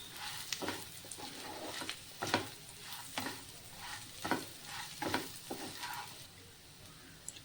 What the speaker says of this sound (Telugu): ఇప్పుడు ముందుగా వేయించి పక్కన పెట్టుకున్న చామదుంప ముక్కలను వేయాలి అవి కాస్త వేగాక ఉప్పు పసుపు కారం ధనియాల పొడి జీలకర్ర పొడి వేసి బాగా కలపాలి